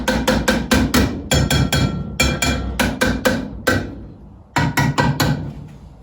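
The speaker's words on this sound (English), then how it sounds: "I'll give it a wee old school tap." Sharp hammer-like taps strike a Chevy coupe's car horn in quick bursts, a dozen or more close, loud knocks with short pauses between groups.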